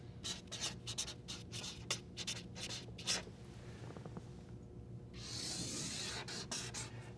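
Pen writing on paper sounds as a series of soft, close scratchy strokes in an irregular rhythm, faint and quiet, followed by a short burst of brighter rustling, with no speech.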